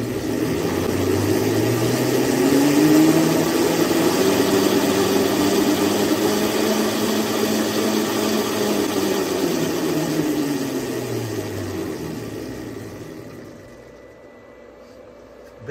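A magnetic coupling driven by a motor runs up to speed and spins, giving a loud steady mechanical hum with a rising and falling whine that fades away near the end.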